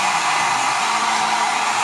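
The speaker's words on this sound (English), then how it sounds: "On goes the hairdryer." A hair dryer blows at full power close by, a loud, steady whooshing roar that holds unchanged throughout.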